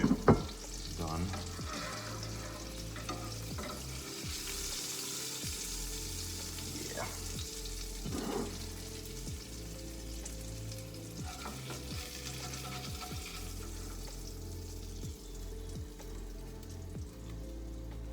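Salmon fillets sizzle and crackle quietly in a frying pan, with steady frying hiss, occasional pops and soft scraping stirs at close range.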